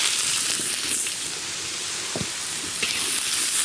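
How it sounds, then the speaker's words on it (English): Onions frying in oil in an Indian kadai wok give a steady, fairly loud broadband sizzle with a few small pops and crackles, alone with no voices. "into the kadai, which is Indian for wok, we'll put some oil and the onions"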